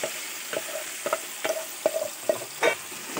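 Tomato pickle paste fries in hot oil while a spoon stirs it, a soft steady sizzle punctuated by repeated scraping strokes roughly every half second, close and alone.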